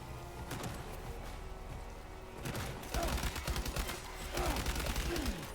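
Rapid bursts of gunfire crackle in a PS5 video game, dense volleys of sharp shots with brief lulls, loud and close, growing heavier toward the end.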